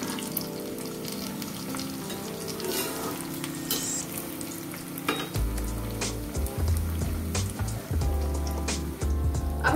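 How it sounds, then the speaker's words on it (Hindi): Veg lollipops deep frying in oil and being turned until golden brown on all sides, a dense crackling sizzle with stirring clatter and thumps growing busier in the second half, no voices. "अपने वेज लॉलीपॉप को हर तरफ से पकाएं, वो हर तरफ से अच्छे से सुनहरे भूरे रंग के हो जाए।"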